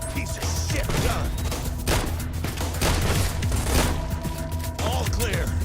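Repeated gunfire from a weapon in Fallout: New Vegas, modded with Tale of Two Wastelands, crackles in dense bursts with heavy low booms throughout, loud and continuous over a churning combat background.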